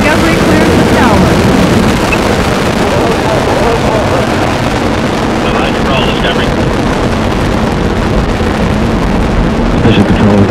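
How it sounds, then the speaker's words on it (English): Space Shuttle Discovery lifts off on mission STS-29 with its solid rocket boosters at full thrust. A loud, continuous roar and rumble fills the whole span with a wind-buffeted texture, and voices are heard faintly beneath it. "SRB ignition and liftoff. Liftoff of STS-29 as Discovery clears the tower."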